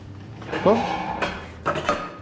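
A frying pan is handled on a home kitchen stovetop while cooking, giving a few sharp metallic clanks and scrapes with a faint voice briefly in the background.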